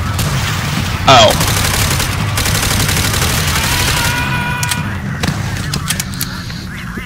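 Gunfire crackles in Call of Duty: World at War, with rapid bursts and shots under a busy battlefield din and a brief spoken exclamation.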